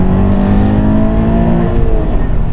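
A car engine is held at slightly raised revs, a loud close drone with a steady low hum that rises and falls a little in pitch, with no talking.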